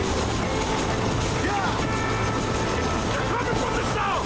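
A train in the video game Red Dead Redemption rolls along loudly and steadily, a continuous rumbling clatter that fills the whole stretch, with faint squeals and other game sounds mixed in.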